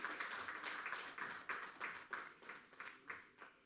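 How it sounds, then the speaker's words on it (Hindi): Applause from a small audience at a Hindi poetry event, a faint, even run of individual claps in a steady rhythm, thinning toward the end. "जोरदार तालियां"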